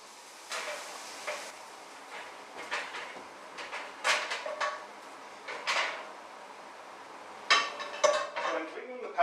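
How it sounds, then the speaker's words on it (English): Pan being cleaned in a home kitchen after cooking shallots and garlic for an Irish stew, with scattered clinks and scraping knocks of metal cookware and utensils, a busier cluster of clatter near the end. "So I'm cleaning the pan that I done my shallots and garlic in."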